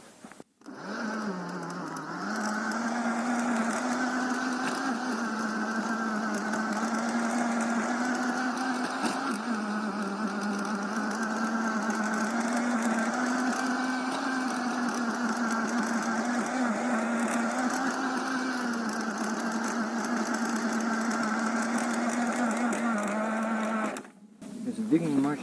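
A garden tiller running steadily with its wheels raised so the tines dig deeper, a continuous buzzing engine drone held for most of the time before cutting out near the end.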